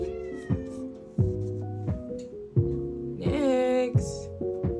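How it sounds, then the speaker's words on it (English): Several cats meow in turn indoors near a workbench where a vintage Underwood portable typewriter is being cleaned, with close, distinct calls spaced about a second apart and one longer, rising cry midway. "my kitties would not leave me in peace"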